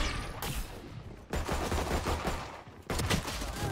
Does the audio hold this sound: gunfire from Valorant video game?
yes